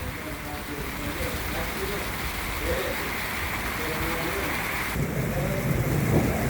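An unseasonal thunderstorm in Vadod village near Jasdan, with heavy rain hissing steadily and low thunder rumbling through, growing louder and fuller near the end.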